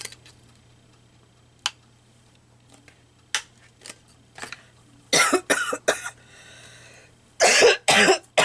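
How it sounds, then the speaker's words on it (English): A woman coughs in short bursts, two separate loud fits close to the mic, between quiet snips and small taps while journaling with paper and scissors. "I don't think I'm ever going to ditch this cough."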